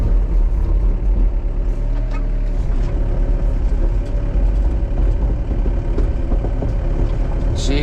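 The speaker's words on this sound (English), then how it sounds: "Nope, spinning track still." Excavator engine running loud and close under strain while its tracks spin, struggling against a root ball, a continuous heavy rumbling drone with clanking through it.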